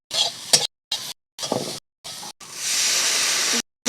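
Chili, cumin and pepper powders stirred in a hot pan with loud, close sizzling hiss, in short bursts between pauses and then a steady sustained sizzle, with no talking.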